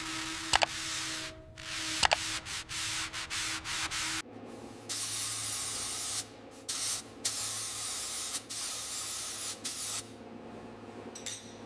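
Spray gun laying a first coat of paint on the wheel hub of a 1900 Georges Richard 3HP, long loud hissing bursts with brief pauses and a couple of sharp clicks, close up.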